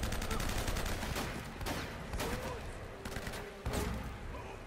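Gunfire from the video game Uncharted: repeated shots cracking over a noisy, continuous battle bed, with a few sharper bursts standing out, moderately loud throughout.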